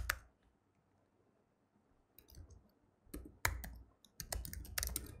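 Sparse keyboard clicks from coding in Swift on a computer, a few isolated keystrokes then a denser burst of typing near the end, close and fairly quiet.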